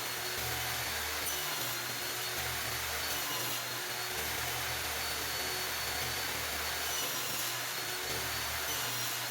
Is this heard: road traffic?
no